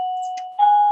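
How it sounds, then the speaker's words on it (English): A doorbell sounds twice in a quiet room, a steady sustained chime tone with a second brighter ding entering midway, ringing clearly and fairly close with no talk over it. "sorry about the bell going"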